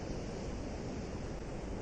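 Atlantic Ocean surf at the Fire Island shore on Long Island, a dense, steady wash of breaking water with faint wind, heard close and continuous with no voices.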